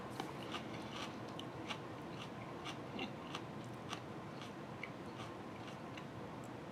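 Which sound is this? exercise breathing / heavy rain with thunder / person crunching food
person crunching food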